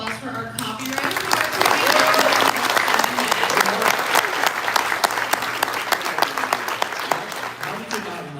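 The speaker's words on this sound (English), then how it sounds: "Can we please get a round of applause for our copywriter?" A convention panel audience at a G.I. Joe Classified Series panel bursts into sustained applause, many hands clapping densely for several seconds, loud and close, with a few voices mixed in.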